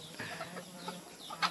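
Farm chickens clucking softly at close range, a few scattered calls over a low steady background hum, with a sharper burst near the end.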